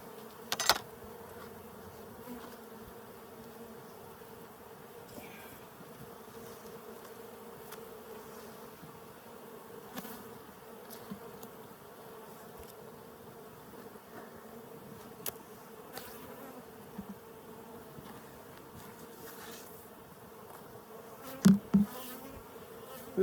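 Honey bees swarming around an open beehive in Colorado, a steady droning buzz with individual bees passing close now and then, plus a few faint knocks and rustles, no speech.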